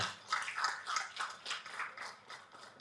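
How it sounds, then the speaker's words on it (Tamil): An audience at the Kuttram Pudhithu movie audio launch claps in a quiet, fairly regular rhythm, several hands beating together in distinct pulses that sound somewhat distant and soft. "ஒரு தடவை நம்ம எல்லோரும் கைத்தட்டிடுவோம்"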